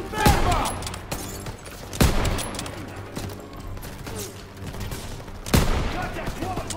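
Machine gun fire in the World War II shooter Call of Duty WW2, heard as several loud bursts of rapid shots with battle noise and shouting voices between them.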